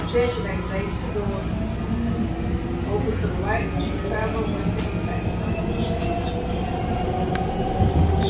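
A MARTA Red Line subway train rumbles steadily at night toward North Springs with a constant droning hum and faint rhythmic rattling, while an announcement voice speaks over it.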